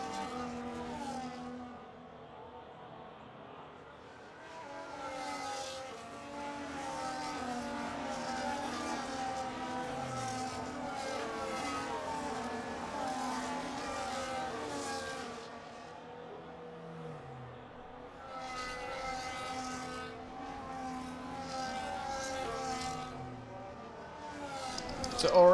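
Formula 1 cars racing in a cockpit-view sim game at a 50% Australian Grand Prix, engines droning and shifting pitch continuously at a steady, fairly loud level, with several cars' whines overlapping and a voice talking at times.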